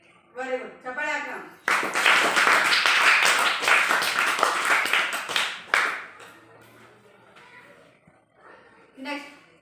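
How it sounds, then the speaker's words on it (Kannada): A group of children clapping together in a classroom reading activity, a dense burst of claps lasting several seconds between stretches of an adult's speech before and after. "ವೆರಿ ಗುಡ್, ಚಪ್ಪಾಳೆ ಹಾಕ."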